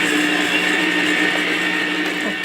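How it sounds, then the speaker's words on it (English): A kitchen blender runs steadily, creaming brown sugar with a teaspoon of vanilla, giving a constant high-pitched motor whine with a churning undertone for a couple of seconds, close and continuous, no talking. "So I'm going to lower my blender, turn it on until it's creamed."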